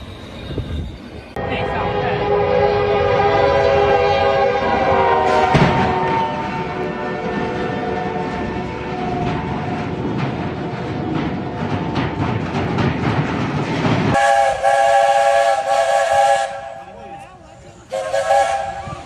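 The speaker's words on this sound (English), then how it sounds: "fast-moving cargo train was on track" A heavy, fast-moving freight train rumbles past loudly and continuously, its horn blaring in long blasts over the clatter of wagons, ending with a final horn burst.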